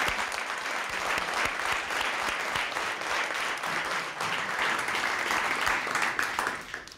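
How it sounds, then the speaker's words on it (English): Steady, dense applause from a live audience cheering poetry recitation performers, sustained at full strength for several seconds before tapering slightly at the end. "So please, let's give them one more round of applause."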